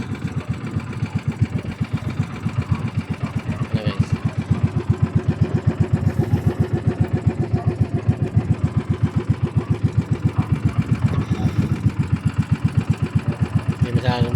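A fishing boat's motor leaves the pier, a steady rapid chugging throb running loud and close throughout, with someone briefly talking over it.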